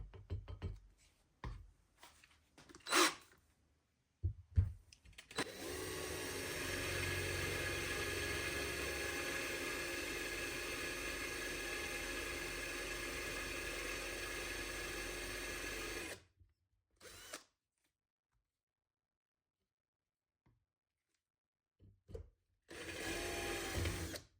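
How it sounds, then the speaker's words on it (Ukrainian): A few scattered knocks and clatters, then a steady, close mechanical whine of a drill with a 4 mm metal bit boring through thick metal for about ten seconds before stopping, followed by brief handling noises. "давайте четвіркою просверлимо"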